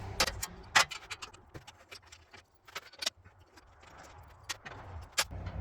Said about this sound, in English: they supply you with T50 wrench here to take these guys out